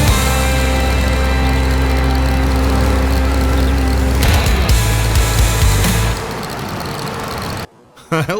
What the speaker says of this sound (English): I like that little mower.